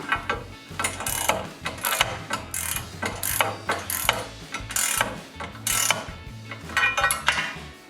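Ratchet with a 16mm socket snugging a bolt while fitting a DV8 Offroad Spec Series front bumper to a 2023-2026 Chevrolet Colorado, a close, rapid run of clicking bursts in short repeated strokes with no talk.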